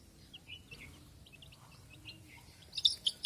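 Young pigeon chicks cheeping softly at close range, scattered faint high peeps that grow a little louder and quicker near the end over a quiet background.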